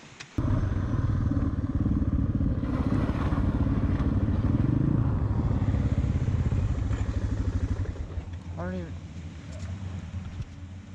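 Motorcycles ride on wet roads in rain, a steady loud engine drone with rain and wind noise that eases near the end, while voices talk over it.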